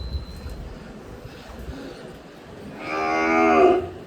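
A single drawn-out cow moo rises near the end, loud and close, after a stretch of quiet outdoor background noise.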